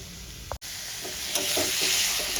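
Potatoes and pointed gourd sautéing with spices in a pan give a steady sizzling hiss with soft stirring scrapes, briefly interrupted by a sharp cut, then resuming louder.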